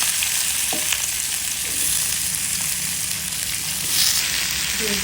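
Sliced bitter gourd and onion frying in a pan, a loud, continuous close-up sizzle with the occasional light scrape of stirring.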